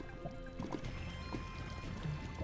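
Flowing water in Minecraft, a soft continuous trickling and pouring, faint and steady, with no talk over it.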